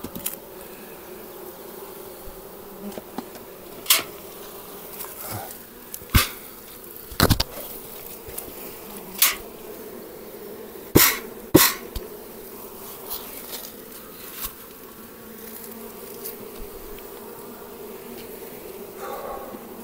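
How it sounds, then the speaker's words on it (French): Steady buzzing of many honeybees hovering close by, with scattered sharp clicks and taps breaking through the continuous drone. "il y a encore plein d'abeilles là-dedans."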